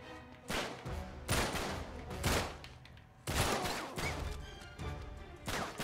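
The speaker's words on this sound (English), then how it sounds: "I didn't mean to use the pistol there." Pistol gunfire in the video game Uncharted 3, set in the London Underground: a string of loud, sharp shots in irregular bursts about a second apart, close and punchy, each trailed by a short rumble, with no talking.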